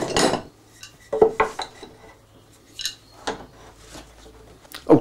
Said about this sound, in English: So I'm going to attach the remaining G-clamps to the other legs that we just cut